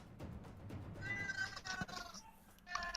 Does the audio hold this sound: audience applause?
no